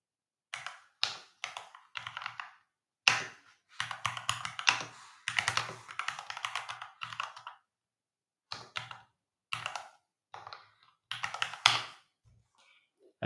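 Fingers clatter on a computer keyboard in close, uneven bursts of keystrokes with short pauses between, as a command is entered in a Windows command prompt; no speech.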